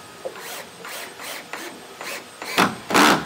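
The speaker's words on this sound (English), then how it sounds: "I got the drill ready to set these screws." Drill driving screws into greenhouse roof lumber, several short whirring bursts in a row, each spaced under a second apart, ending with two louder, longer runs as the screw seats.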